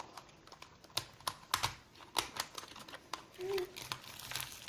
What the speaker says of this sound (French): nous allons commencer par ouvrir le premier sachet.